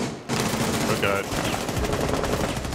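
Rapid gunfire in Rainbow Six Siege, loud clattering shots that begin suddenly and continue densely to the end, with a brief voice heard amid the shooting.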